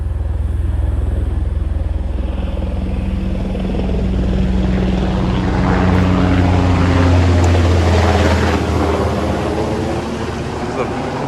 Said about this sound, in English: There's a Black Hawk helicopter flying by